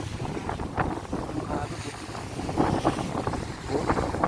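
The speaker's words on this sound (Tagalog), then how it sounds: "Palo ng alon." Waves slap and surge irregularly against a boat hull while strong wind buffets the microphone.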